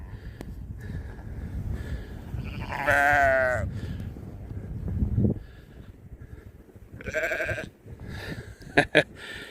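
Sheep bleat at a new livestock guardian puppy in a spring snowstorm, two loud wavering calls a few seconds apart, then sharp shorter bleats near the end, over low wind rumble and faint farm noise.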